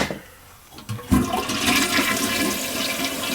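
A toilet flushes after being reseated on a loose floor flange, opening with a click then a loud, sustained rush and swirl of water close by.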